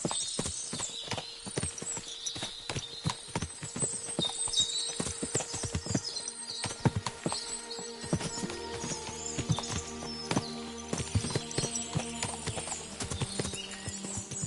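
Many horses' hooves clip-clopping steadily on a hard surface, a dense overlapping clatter with an occasional whinny in the background.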